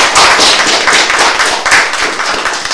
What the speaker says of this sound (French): Waouh, ça peut s'applaudir aussi.